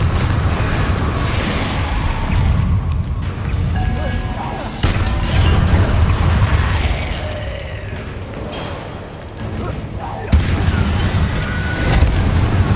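A Confringo blasting spell explodes in the video game Hogwarts Legacy, with booming crashes landing at intervals over a constant rumbling combat bed and voices mixed in.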